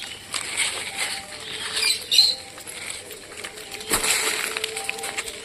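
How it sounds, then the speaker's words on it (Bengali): Pigeons drop down to feed on scattered wheat and maize near a bird cage, giving soft irregular wing flutters and light pattering scrabbles, fairly close and quiet, with no talk. "সব কবুতরগুলো নামছে, খুব সুন্দর খাচ্ছে"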